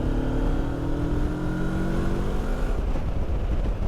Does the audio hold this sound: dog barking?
no